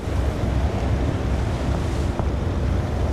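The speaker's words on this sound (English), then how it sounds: "sounds like the wind's picking up a bit" Wind rising over open sea in Seafarer the Ship Sim, a steady loud rush of gusting air and surf around a sailing vessel, continuous with no voices.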